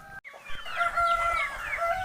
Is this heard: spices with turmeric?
no